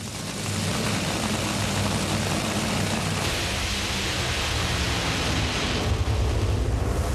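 A top fuel dragster run at the Summit Racing Equipment Nationals in Norwalk, Ohio: a loud, broad roaring blast that swells and fills the air for several seconds, without talk.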